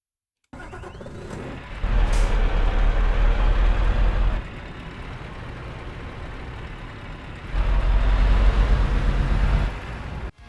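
A truck engine drones steadily while driving in Euro Truck Simulator 2, swelling louder twice for a couple of seconds each time as if accelerating, then easing back to a lower hum.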